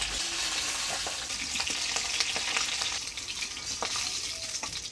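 A fish head fries in hot oil, a dense, steady sizzle throughout with occasional crackles and faint scrapes of stirring, close and loud with no voices.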